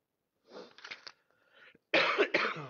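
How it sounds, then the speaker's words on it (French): Coughing fit from someone irritated by vaping an e-cigarette: a few muffled coughs and throat sounds, a short pause, then two louder, harsher coughs close by, with no talking. "Vraiment, la vaporette, ça me fait tousser."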